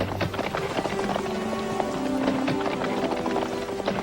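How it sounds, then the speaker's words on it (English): Hooves clip-clop at a quick pace over a dense, rushing wash of noise, steady throughout with no voices. "the day before their wedding, Scriven's fiancée rode out to meet him along the banks of the River Bann."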